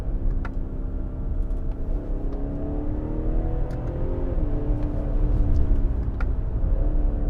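A 2020 BMW 740i xDrive engine revs steadily and continuously from inside the cabin, its rising and falling tone marked by quick crisp shifts as the paddles are worked, a sustained close rumble with no talk.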